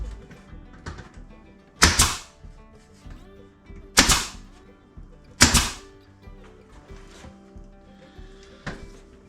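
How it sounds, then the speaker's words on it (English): Pneumatic brad nailer driving 3/4 inch brads into a wall panel hiding an electrical box, with three sharp loud shots spaced a couple of seconds apart, a fainter fourth near the end, and light handling knocks between. "Okay, so I've got 3/4 inch brads in my air gun."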